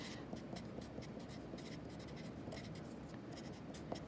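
Pen or pencil scratches on paper in a quiet room, soft continuous strokes with short breaks between marks as someone writes during a math lesson.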